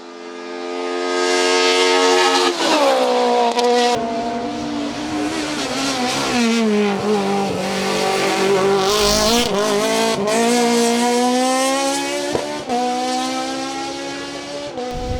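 A Peugeot 205 race car engine roars loudly and close, revving hard through rising and falling pitch sweeps with sharp gear changes and crackling bursts, with no talk.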